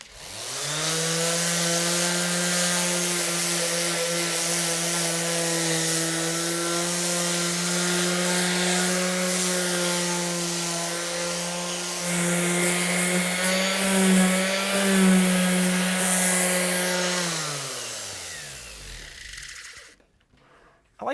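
Electric power sander working pieces of a wooden farmhouse table, a continuous steady motor whine with a strong hum, running for around eighteen seconds with slight shifts in tone as pressure changes, then spinning down and stopping.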